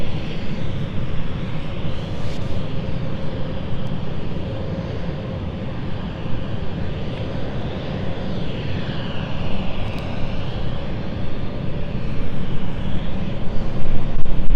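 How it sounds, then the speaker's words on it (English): An airliner at London City Airport ready to take off, its engines holding a steady broadband roar that swells louder toward the end, heard from a distance with no talk over it. "Guess we're ready to take off."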